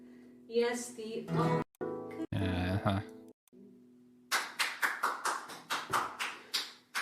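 A burst of hand claps comes after talking, sharp and rhythmic, about ten claps in quick succession at close range.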